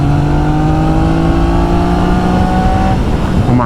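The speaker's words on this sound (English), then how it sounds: "the noise off that engine is absolutely gorgeous" A 2024 Triumph Daytona with a retuned triple engine revs up hard and close, its rising whine holding steady before dropping off and climbing again near the end.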